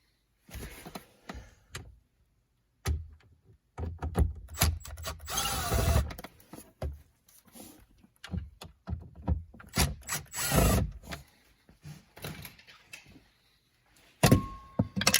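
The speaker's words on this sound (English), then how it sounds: "Let me pull that off." A plastic knee bolster panel on a Jeep Patriot is pulled free of its clips during a heater repair, giving close irregular creaks, rubs and sharp snaps in bursts separated by brief pauses.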